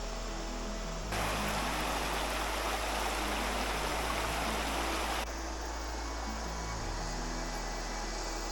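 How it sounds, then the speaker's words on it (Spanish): A river in the Costa Rican rainforest countryside rushes as a dense, steady hiss of flowing water, swelling louder for several seconds in the middle before settling back to a constant background roar. "Se supone que por aquí hay un río"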